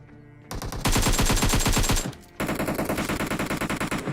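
Gunfire in PUBG Mobile: a loud burst of rapid automatic fire, a short pause, then another steady run of evenly spaced shots, all close and dominant.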